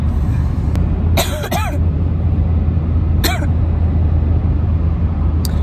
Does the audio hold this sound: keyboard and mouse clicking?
no